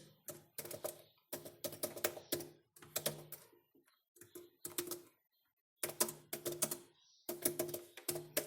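Computer keyboard typing in quick bursts of close, crisp key clicks separated by short pauses, with no talking.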